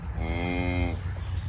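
A cow with a newborn bull calf on a farm gives one loud, close moo lasting about a second, with faint background rumble.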